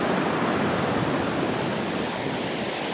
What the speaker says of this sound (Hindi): और नीचे भागीरथी का टर्बुलेंस